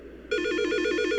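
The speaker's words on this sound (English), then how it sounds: "budget Verizon ringtone" A shrill, warbling phone ringtone from the video game Silent Hill Shattered Memories, styled like a budget Verizon tone, starts abruptly and trills in a fast, steady electronic pulse, loud and close with no talking.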